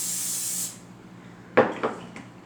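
Cooking oil spray hissing into a dough bowl for bread bowls, one steady close spray lasting under a second, then a few knocks and handling clunks.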